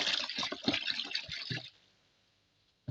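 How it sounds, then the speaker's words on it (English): Alcohol poured into a batch of homemade Dettol-style antiseptic liquid, a close, splashy pour lasting under two seconds before falling quiet. "I will go ahead and add more alcohol"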